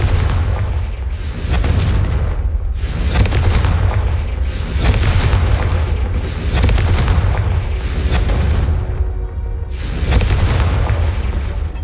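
Fiery Confringo spell blasts in Hogwarts Legacy, a series of loud booming explosions arriving roughly every one and a half to two seconds, each with a sharp crack and rumbling tail, continuous and close.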